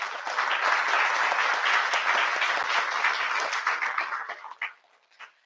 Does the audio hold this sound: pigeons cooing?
no